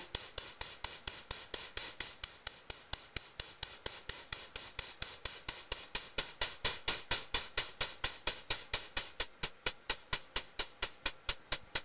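A modular synthesizer patch voiced as a hi-hat ticks out a steady, fast run of short, bright, hissy hits with brief decay, repeating evenly and alone throughout, growing slightly louder partway through.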